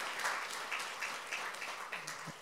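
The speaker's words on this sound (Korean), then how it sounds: "우리 애들 박수 한번 쳐주세요." A church congregation at a revival service applauds with a steady, moderately loud wash of clapping that fills the room for a few seconds.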